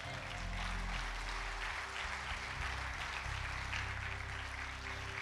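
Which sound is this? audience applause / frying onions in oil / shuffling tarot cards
audience applause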